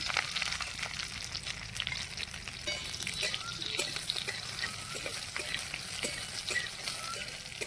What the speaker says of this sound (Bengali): ভেন্ডিগুলো একটু ভালো করে ভেজে নেব